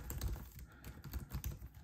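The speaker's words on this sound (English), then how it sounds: "It's like a chiclet style keyboard." Quick, close typing on the chiclet-style keyboard of an HP Dev One laptop, a light, irregular run of soft key clicks with no talking.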